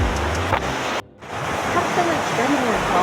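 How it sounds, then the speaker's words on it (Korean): Sea waves breaking on rocks along the East Sea coast at Jukbyeon, Uljin, a loud broadband roar and wash of surf that drops out briefly before returning, with wind buffeting the microphone. "바위와 파도가 너무나 좋습니다"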